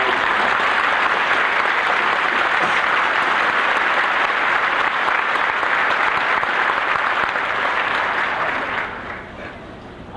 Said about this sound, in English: Will you join me in a round of applause?